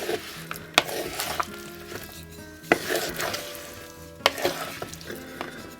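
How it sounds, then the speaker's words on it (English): A spoon or spatula folds cooked potatoes through a potato salad in a bowl, making soft scraping and squelching stirs punctuated by a few sharp clinks against the bowl. The sounds are close and alone, with no talking. "When you're doing this, just fold it in, otherwise you start breaking up the potatoes."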